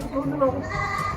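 Goats bleating on a farm as they feed, several short wavering calls close by, with people talking over them.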